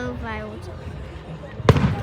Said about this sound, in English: Whoa, that's a little firework.